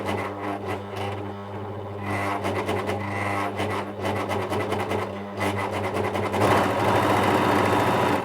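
A Bernette 610D serger motor runs at low speed with a steady whirring hum and rhythmic mechanical chatter, close by, growing louder and faster near the end.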